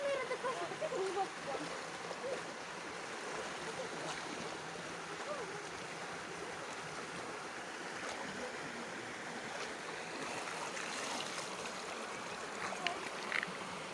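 A waterfall stream flows with a steady, faint rushing wash that carries on throughout, with occasional light splashes and no clear talking.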